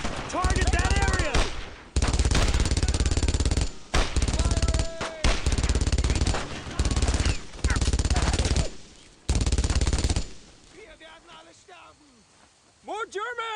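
Loud, sustained machine gun fire in the World War II video game Brothers in Arms: Road to Hill 30 comes in long bursts with brief gaps, then fades to quieter background battle noise near the end.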